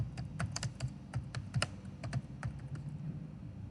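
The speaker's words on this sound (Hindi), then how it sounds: "इस फीचर को मैं क्या कर देता हूं, इनेबल। तो इनेबल करने के लिए जस्ट मैं क्या कर दूं, नो हटा करके सारी चीजें मैं टाइप कर देता हूं।" Typing a command on a computer keyboard while configuring Cisco IOS, a close run of quick irregular key clicks with a few heavier taps, steady over a low background hum, no talk.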